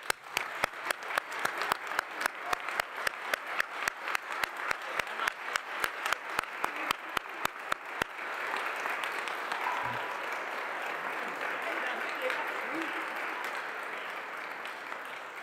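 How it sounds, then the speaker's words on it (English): An audience applauds at a Canadian Space Agency astronaut assignment announcement, a few loud close claps standing out in steady rhythm over the crowd's clapping, which then settles into a softer even wash that continues to the end. "I think we need a round of applause for you."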